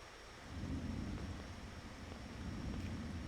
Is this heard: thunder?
yes